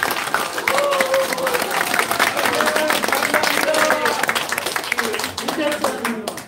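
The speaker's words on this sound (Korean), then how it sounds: "여러분 박수 다시 한번" Sustained applause and clapping from a crowd at a Korean political campaign launch rally, dense and steady for several seconds, with a speaker's voice talking over it throughout.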